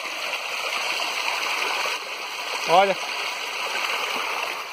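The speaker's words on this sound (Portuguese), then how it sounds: "No meio da caatinga se forma uma linda cachoeira" A waterfall pours from an overflowing reservoir in the caatinga after a heavy storm, a loud, steady rushing wash close by, with someone briefly speaking over it.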